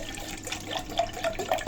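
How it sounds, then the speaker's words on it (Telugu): Water is poured into a half-litre milk bottle, a short, faint splashing trickle with small gurgling notes as it fills. "ఆఖరికి బాటిల్లో కొన్ని నీళ్ళు పోసి, ఇది అర్ధ లీటర్ బాటిల్ కదా, కొన్ని నీళ్ళు పోసి వస్తా"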